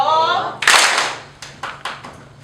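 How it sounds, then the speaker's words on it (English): Several sharp hand claps from an audience at a Japanese ipponjime ceremony: one loud, broad burst of clapping followed by a few scattered, quieter claps, with a voice speaking just before. "we're going to practice an ipponjime together. So when she says yo, clap your hands together once"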